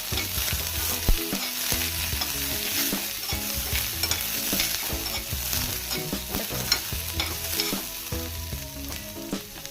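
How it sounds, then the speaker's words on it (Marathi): Chopped onion, ginger and garlic sizzle and crackle steadily in hot oil for a brinjal curry, with scraping stirring close by throughout and no one speaking. "सर्वात पहिले कांदा टाकूया त्यानंतर अद्रक आणि लसूण आणि याला व्यवस्थितरित्या हलवून घेऊया"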